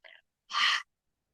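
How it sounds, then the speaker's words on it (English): A short breath at the start, then a single open-mouthed exhale in a breathing exercise, a clean breathy rush of air lasting about a third of a second, close and isolated against silence. "Open your mouth and exhale out."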